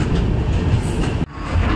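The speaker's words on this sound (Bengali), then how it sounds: "পাহাড়ের কোল ঘেঁষে কিন্তু আমাদের ট্রেনটা আস্তে আস্তে এগোচ্ছে" A Garib Rath Express rolls slowly along the foot of hills, its carriage rumbling in a loud, continuous low drone with a brief sharp dropout partway through.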